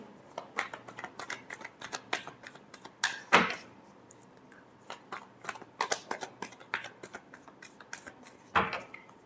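Tarot cards being shuffled by hand, a series of crisp riffling slaps and soft papery rustles in quick irregular bursts, fairly close and moderately quiet.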